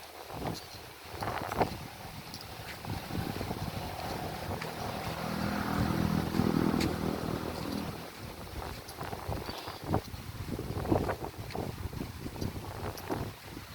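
Steady wind buffets the microphone outdoors, with a rumbling gusty roar and scattered knocks and clatter over a boat-like background.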